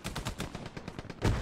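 Rapid, fairly faint distant gunfire from many soldiers in the World War II game Hell Let Loose, a quick rattling series of shots closing with one louder, nearer bang.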